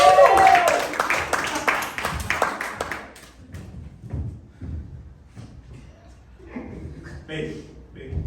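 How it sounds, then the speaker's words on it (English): An improv comedy audience bursts into scattered clapping that fades after a few seconds, leaving quiet room noise and a few faint taps. "give them a round of applause."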